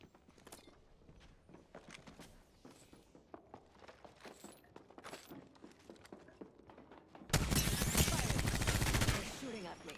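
Dense automatic gunfire erupts in a firefight in the video game Apex Legends, a loud sustained burst after scattered shots and game noises, lasting close to two seconds.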